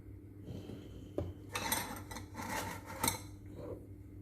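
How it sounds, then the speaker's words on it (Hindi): Metal spoon scraping and clinking against a bowl while spooning marble cupcake batter into cups, close and quiet with a few sharp taps amid softer scraping. "तो सब मैं इसी तरह मैं चम्मच से डाल रही हूँ।"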